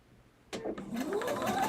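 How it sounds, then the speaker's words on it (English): A home sewing machine runs steadily at close range, its motor starting abruptly and holding a continuous whirring hum with a slowly rising whine. No one speaks over it. "so it might be picking it up from the sewing machine."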